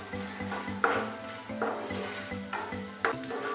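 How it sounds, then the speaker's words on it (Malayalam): Chopped cashews roasting in hot oil in a pan, stirred with a utensil; a steady close sizzle runs throughout with a few sharp scrape-and-clatter strokes of the spoon against the pan. "രണ്ടും ചേർത്ത് നന്നായിട്ടൊന്ന് റോസ്റ്റ് ചെയ്തെടുക്കുക"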